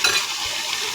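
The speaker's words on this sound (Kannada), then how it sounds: "ಚೆನ್ನಾಗಿ ಫ್ರೈ ಆಗ್ತಾಯಿದೆ" Ghee rice ingredients fry in a pan with a steady, dense sizzle, heard up close and alone through the whole moment, with faint stirring beneath.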